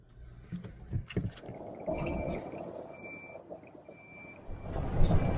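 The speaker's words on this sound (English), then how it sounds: "so we've got a little beeping and a blinking light going on" A thin electronic warning tone beeps in a few short pulses from a ten-month-old RV system with a blinking light, faint beneath rustling and clattering handling noise nearby.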